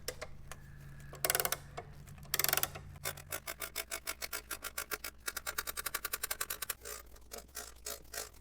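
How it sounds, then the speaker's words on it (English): Wrench being worked on a spare tire bolt of a Fisker Ocean; rapid ratcheting clicks in bursts, with a couple of louder raspy scrapes early on, close and fairly loud. "All right, so now I can use my wrench here."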